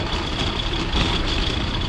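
Cars and trucks outside a Costco store give a steady, muffled traffic and engine rumble, moderately distant and continuous, with no talking.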